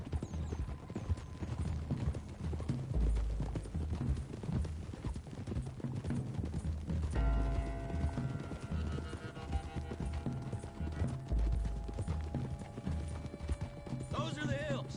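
Hooves of horses pound at a gallop in a video game, a fast, continuous clip-clop with neighs, loud and near under game speech, with music and scattered effects in the background.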